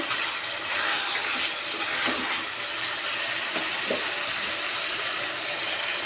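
Chicken pieces sizzling in oil in a pan during slow braising, a dense, steady hiss and crackle that fills the clip at close range, with no talk over it.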